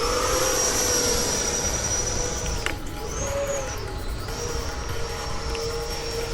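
An FMS Super Scorpion 90mm RC jet screams past at high speed, its ducted-fan whine dipping and rising in pitch as the model stalls during a hard pull, loud and continuous.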